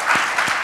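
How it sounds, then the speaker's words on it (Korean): Church congregation clapping for a young orchestra member, a brief burst of applause with a few distinct claps. "여러분 딸한테 우리 한번 박수 한번 해주시겠어요?"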